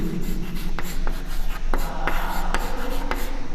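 Pen or pencil writing out a soil definition by hand on paper during an agriculture lesson, a steady scratchy scrawl with a few sharp taps as strokes land, fairly close and with no voices.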